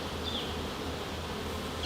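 Honeybees buzz on comb frames lifted from a colony during a hive inspection, a soft steady hum close by with no talk.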